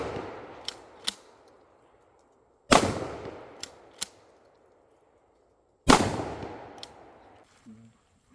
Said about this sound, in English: So we're going to take 3 shots at 7 yards and see how it patterns.